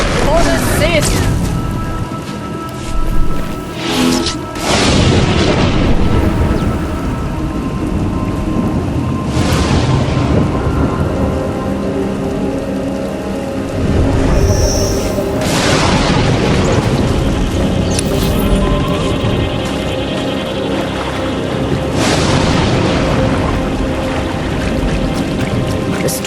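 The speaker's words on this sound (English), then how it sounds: "The storms are fierce today." A fierce storm rages in a Sith Warrior video game, with steady loud rain and several deep rolling thunder booms across the whole stretch, and the thunder swells and fades repeatedly.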